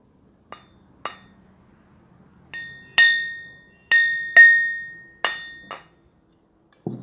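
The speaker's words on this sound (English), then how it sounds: "All metals are sonorous. See here. It's a small vessel." A small aluminium vessel struck lightly several times, each tap giving a bright, close metallic ring that decays quickly, with short gaps between strikes and no talk over it.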